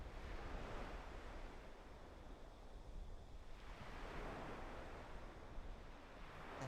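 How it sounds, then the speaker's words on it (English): Ocean waves at a seaside sanctuary, a faint, distant wash of surf swelling and receding in slow surges, mixed with soft wind noise and no voices. "allow the sounds of the waves coming from the sanctuary today"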